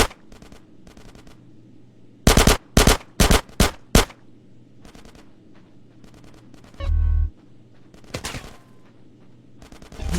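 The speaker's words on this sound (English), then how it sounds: "Get some suppressing fire in there!" Gunfire in a firefight in the video game GTA San Andreas, with several loud, close bursts of automatic fire, sporadic single shots, and a brief low rumble, separated by quieter gaps.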